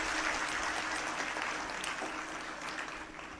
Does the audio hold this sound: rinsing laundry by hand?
no